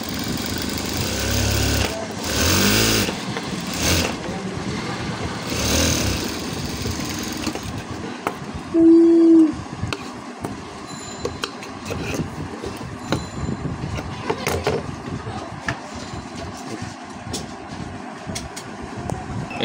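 A sewing machine stitches blouse fabric, its motor running in a rattling, rhythmic mechanical buzz that comes in bursts and pauses, close by, with someone speaking over parts of it.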